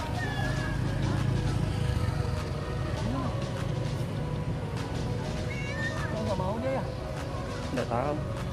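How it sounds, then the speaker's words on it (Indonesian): A stray cat meows several times at a market, short mid-pitched cries under steady crowd noise and ongoing conversation nearby. "Ini nih ada kucing nih."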